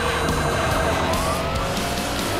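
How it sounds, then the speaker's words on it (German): Police car siren in the racing game Need for Speed Hot Pursuit, a loud, continuous wailing tone over steady engine roar and road noise, no talk present. "ein Polizeiauto kommt."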